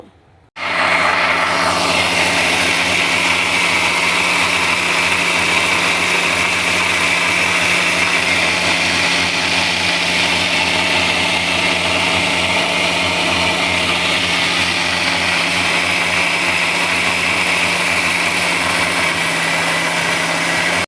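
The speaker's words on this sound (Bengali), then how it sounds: "সব কিছু দিয়ে আমি ব্লেন্ডারের এই ঢাকনাটা আটকে আমি চালু করে দিব" An electric blender whirs ripe mango with a pinch of salt into juice, starting abruptly and holding a loud, steady motor whine for about twenty seconds without speech.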